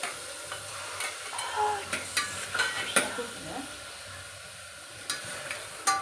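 Mutton pieces frying in a pan with green chilies, a soft steady sizzle broken by intermittent scraping and stirring clatter, close and fairly quiet.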